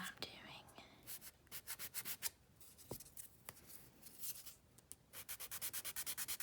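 A nail file rasps back and forth over dip-powder nails while shaping and thinning the sides, close and quiet, in quick rhythmic bursts of rubbing strokes with brief pauses between passes.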